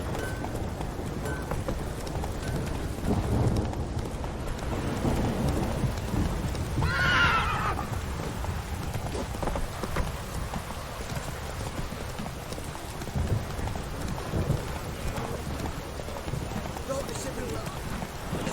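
A horse in The Witcher 3: Wild Hunt, Heart of Stone expansion, gives a loud whinny midway through steady galloping hoofbeats, while someone speaks over the rhythm.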